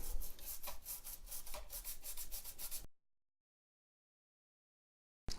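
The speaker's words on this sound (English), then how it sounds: "right here I scraped off just enough of the solder mask to expose some bare copper" Solder mask being scraped off a 486 PCI motherboard, a steady, rapid rasping scrape for about three seconds, close and fairly loud, then silence.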